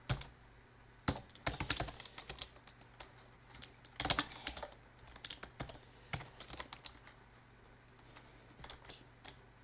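Rapid bursts of keystrokes on a computer keyboard while commands are typed to set up a Python virtual environment, close and crisp, with irregular clusters of clicks and short pauses, no talking.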